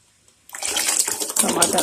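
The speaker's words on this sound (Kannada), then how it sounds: "ಅದನ್ನು ರಸ ತೆಗೆದಿಟ್ಟಿದ್ದೆ, ಟೊಮೆಟೊ ಸೇರಿಸ್ತಾ ಇದ್ದೀನಿ" Tomato juice poured into a pot of cooked lentils for a simple dal sambar, a steady splashing pour starting after a brief silence and running continuously close by.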